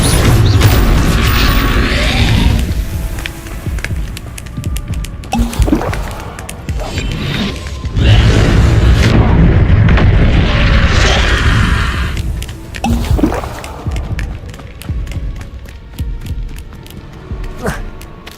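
Incendio fire spells burst in rapid succession in the video game Hogwarts Legacy, loud crackling booms and whooshes layered densely with squelching impacts and combat clatter.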